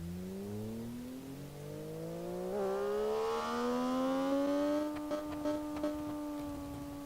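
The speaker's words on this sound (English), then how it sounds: "A 66 horsepower 152cc engine." A small 152cc engine revs up, its buzzing pitch climbing steadily and then holding high, heard fairly close with a few light clicks near the end.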